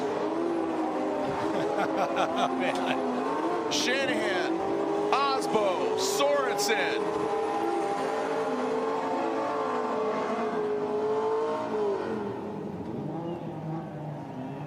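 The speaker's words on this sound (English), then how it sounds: "Celebratory donuts from our podium finishers." Race cars at a Formula Drift round spin celebratory donuts, engines revving and tires squealing continuously up close, while an announcer talks over the noise throughout.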